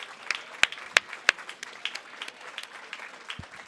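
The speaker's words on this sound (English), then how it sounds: "Clapping as they all come in the warm room here." Curlers at a college national championship quarterfinal get a round of light clapping as they enter the warm room, a few sharp claps standing out over scattered, moderately distant applause.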